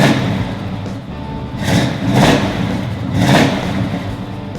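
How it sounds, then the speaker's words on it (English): A 1970 Oldsmobile Cutlass 442 convertible engine idling with a rough, rumbling roar, swelling in two distinct revs about a second apart before settling back, close by with no talk. "so how about I fire it up so you can hear it."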